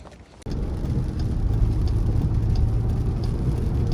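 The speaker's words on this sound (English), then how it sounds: "Oh my god, and it's raining." Steady rain patters loudly and evenly on a hard surface close by, beginning abruptly after a brief quieter moment.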